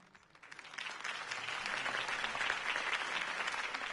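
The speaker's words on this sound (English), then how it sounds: "could have heard that applause" Crowd applause in the Telltale Batman video game swells after a mayoral campaign speech, a dense, steady wash of many clapping hands rising quickly and holding loud for several seconds without speech.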